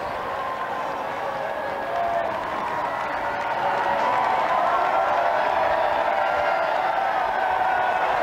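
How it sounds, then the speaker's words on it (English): A large crowd cheers and surges across Whitehall outside Downing Street in 1997 to greet Tony Blair's car, with police holding them back; a dense, sustained roar of cheering and clapping that swells louder midway and stays steady. "a big crowd surging across Whitehall to his car, with the police trying to hold them back"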